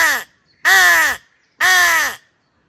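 A simple blown crow call imitating a crow, three loud close caws of about half a second each with short pauses between, alone with no other sounds.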